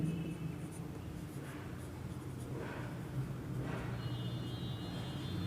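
Pen or pencil scratching on paper while a maths problem is written out by hand, soft continuous strokes close up over a low background rumble, with no voices.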